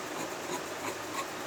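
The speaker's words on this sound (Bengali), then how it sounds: "মানে আমি এই 3 নম্বর পার্টটা কাটছি" Scissors or a blade cut through blouse fabric along a pattern piece, giving a steady close rasping and rubbing sound for a moment without any talk.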